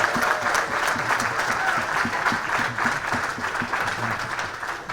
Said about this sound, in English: please, a rousing round of applause for Senator Hank Sanders